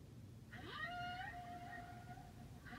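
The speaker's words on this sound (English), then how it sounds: "Blue whales are making noises." A blue whale vocalization: a drawn-out tonal moan with a slight upward bend, rising after a brief quiet start, holding steady at moderate loudness for about two seconds, then fading over a low background rumble.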